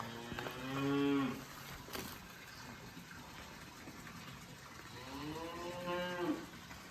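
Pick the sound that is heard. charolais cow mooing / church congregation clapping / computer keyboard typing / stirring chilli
charolais cow mooing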